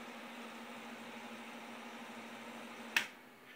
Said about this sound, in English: you can hear it trips the relay earlier in the module